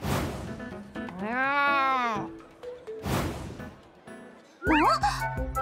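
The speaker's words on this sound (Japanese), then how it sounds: "あっちの屋根の上にお魚くわえた猫が" A cat meows on a rooftop in the video game Tamaki Cafe, with a long drawn-out meow followed by a shorter yowl, clear and close, among game sound effects.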